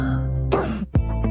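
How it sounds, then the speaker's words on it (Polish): A single dry, hacking cough bursts out, followed by a short throat-clearing catch, close and clear against a steady background tone. "Lek na suchy, męczący kaszel."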